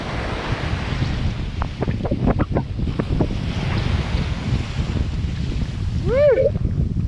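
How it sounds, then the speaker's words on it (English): Ocean surf at an open beach on the Cape Sebastian coast, a steady broad wash of breaking waves with wind rumble, close and loud throughout, a brief high voiced whoop near the end. "Here we're sitting in these waves."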